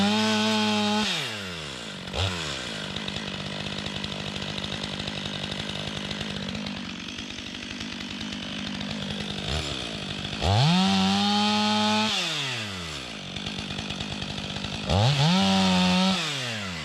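A STIHL MS 500i chainsaw cuts into a tree, close and loud, with a steady rough cutting drone and sharp revving surges that rise and fall at the start, middle and end.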